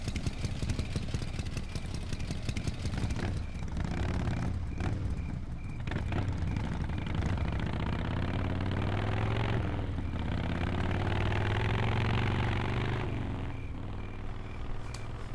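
A motorcycle engine in the video game Full Throttle Remastered idles with a steady low rumble, rising slightly in revs partway through, with no talking.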